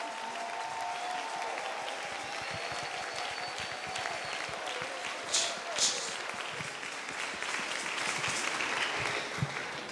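A worship congregation applauds with sustained, dense clapping in a church service, a steady wash of hands with occasional louder bursts, cheers and shouts mixed in throughout.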